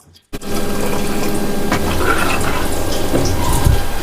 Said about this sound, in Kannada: ಮಿಕ್ಸಿ ಜಾರಲ್ಲಿದ್ದ ಮಸಾಲೆಗೆ ಸ್ವಲ್ಪ ನೀರು ಹಾಕಿ ಹಾಕ್ತಾ ಇದ್ದೇನೆ